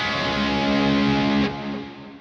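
A sustained electric guitar chord, played through reverb and delay, rings out with a washy, echoing tail that lingers and fades after it is cut off.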